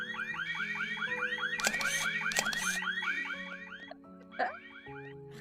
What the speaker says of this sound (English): the freaking burglar alarm's going off already